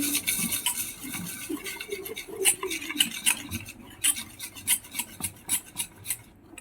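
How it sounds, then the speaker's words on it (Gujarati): Bread pakoda batter being mixed with salt and chili in a bowl, heard as close rhythmic scraping and stirring strokes that quicken into regular beats toward the end. "હવે એની અંદર સાધારણ મીઠું નાખીશું થોડું મરચું નાખીશું પછી એને મિક્સ કરી દઈશું"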